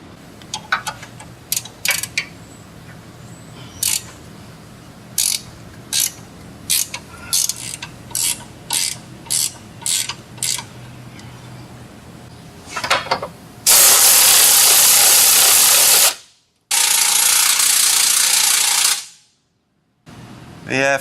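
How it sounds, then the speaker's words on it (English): An 18 mm ratchet loosens control arm bolts on a Jeep Wrangler, giving close, rhythmic clicking in short bursts, followed by longer loud hissing stretches. "Now we need to loosen the bolts for the control arms at both the axle and the body using 18 millimeter"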